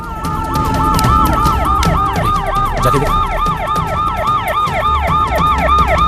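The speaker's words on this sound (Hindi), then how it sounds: "एम्बुलेंस है भाई" A loud wailing ambulance siren sweeps up and down repeatedly in a fast, regular cycle, with traffic noise underneath.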